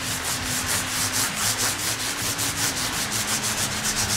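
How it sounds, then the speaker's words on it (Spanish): Fine 1000-grit sandpaper rubbed by hand over the body of a Mexican Fender Stratocaster, a steady rhythmic scratching of quick back-and-forth strokes, close and clear, with no voices. "Entonces, venga, lija 1000."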